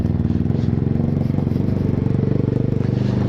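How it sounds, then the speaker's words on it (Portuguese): Dafra Next 250 motorcycle fitted with a G-Escape GP Carbon exhaust, revving loudly up close with a steady, throaty, pulsing engine drone and no talk. "Mostrar o barulho do G-Escape aí"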